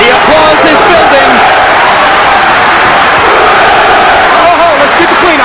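A dense, loud boxing arena crowd for Holyfield vs Lewis roars continuously, with cheering, chanting and building applause merging into a steady wall of noise, while a voice talks over it.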